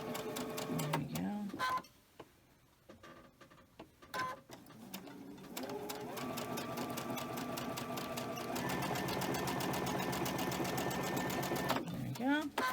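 A sewing machine stitches quilt pieces with white thread at a 2.5 stitch length, running in steady bursts of rapid mechanical chatter with short pauses between runs, close and clear.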